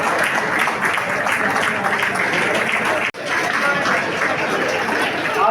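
Loud, sustained applause from an audience at an awards ceremony in Dombivli, a dense clapping crowd with a momentary cut partway through and some chatter underneath.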